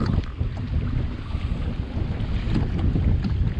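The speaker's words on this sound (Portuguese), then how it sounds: "Ventando muito, muito." Strong wind at a campsite roars and buffets continuously, with heavy low rumble and gusty blasts throughout, no voices.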